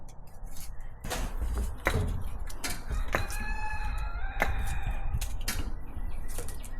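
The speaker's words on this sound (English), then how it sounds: "The roosters are calling me." Several roosters crow in turn outdoors, with hens clucking and rustling nearby; the crows are loud and carry clearly.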